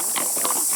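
Horse hooves clip-clopping in a quick, uneven rhythm over a steady background hiss, heard for a brief moment.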